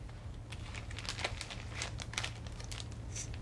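A plastic bag holding a slice of bread and a teaspoon of water crinkles faintly in short, scattered crackles.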